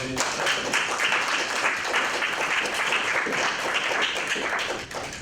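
Student senate members applaud newly elected senators, a loud, continuous wash of clapping from a room full of people, tapering slightly at the very end.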